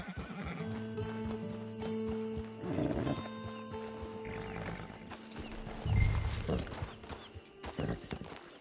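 Horse hooves clip-clop in Red Dead Redemption 2 as a horse walks into a camp, a close, steady hoof rhythm with a neigh partway through over a low background hum.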